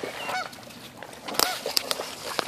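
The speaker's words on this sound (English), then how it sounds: "there's two Canadian geese with it, what looks like three babies" Canada geese with goslings on Pike Island honk and squawk in agitation, a run of sharp, loud, close calls that come quicker and harsher toward the end, with no talking.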